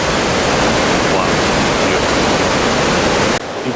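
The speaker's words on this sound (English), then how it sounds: "Beautiful waterfalls, to say the least." Loud, constant roar of a waterfall rushing through a rocky canyon at Grand Portage on the Lake Superior shore, dense and close, cutting off abruptly near the end.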